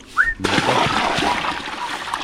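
Water splashes and sloshes inside a 50,000-litre underground tank holding dirty water, a close burst followed by a steady rushing wash that continues to the end.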